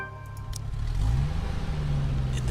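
A car engine turns over and revs up, then settles into a steady low rumble as the vehicle pulls away on a dark, stormy night, loud and close with no voices.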